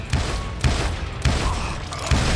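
Explosions and bursts of gunfire in the Western shooter Call of Juarez: Gunslinger, four heavy booming blasts at roughly half-second intervals over a dense, roaring battle din, loud and close.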